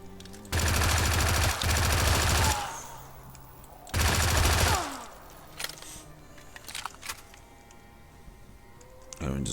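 Video game gunfire in Forza Horizon 5 while shooting zombies: two loud, sustained bursts of rapid automatic fire, separated by quieter game ambience with scattered small sounds.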